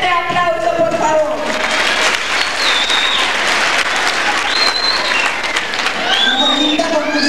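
Loud audience applause fills a cultural night show as a contestant is presented, sustained dense clapping with whistles and cheers rising over it, and a voice talking beneath.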